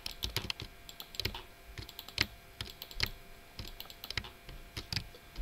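Computer keyboard clicking during Minecraft play, rapid irregular keystrokes and clicks, close and fairly quiet, continuing steadily without any voice.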